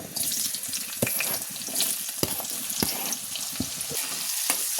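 Onions fry in hot oil left from frying fish, the base for a Nepali fish curry. A steady close sizzle carries on throughout, broken by occasional clicks and stirring scrapes, and no one speaks.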